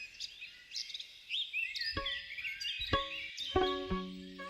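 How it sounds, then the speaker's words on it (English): Bright, warbling bluebird song repeats in short phrases close to the listener, with a few sharp clicks or taps in between. "The birds showed up right on cue and sang right into his tiny microphones as they filmed."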